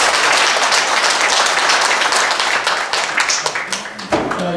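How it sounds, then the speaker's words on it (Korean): Enthusiastic audience applause for a saxophone player at an anniversary ceremony, a thick, loud burst of clapping that carries steadily, then thins and briefly overlaps a voice at the end. "색소폰 연주자께 큰 박수 한번 다시 보내주시기"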